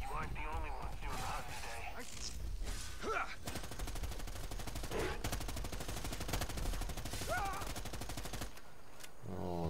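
Gunfire in Predator: Hunting Grounds, continuous rapid automatic bursts under game sounds, with a voice talking over it.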